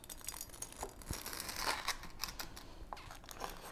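Knife slicing through a hot, melty grilled cheese sandwich, giving a few soft crunchy cuts and crinkles spread over several seconds, close by with no talking.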